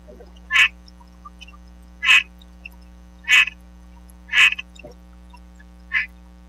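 A frog croaks five times at a slow, even pace of about one call per second, each croak a short rasping burst, close and clear over a low steady electrical hum.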